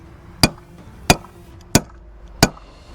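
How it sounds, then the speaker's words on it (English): Four sharp, evenly spaced metal strikes from a large adjustable wrench used as a hammer, each a loud crack with a short ringing decay, no voices. "if you've got a big enough adjustable wrench, you can use it as a hammer"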